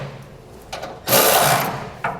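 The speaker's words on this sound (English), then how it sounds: "when you do this U-bolt, try to kind of tighten these up evenly" U-bolt hardware on a gooseneck trailer hitch for a 2012 Ram 2500 being tightened with a power tool, heard as a short whir, then a louder second-long burst of close mechanical buzzing and a brief final pulse.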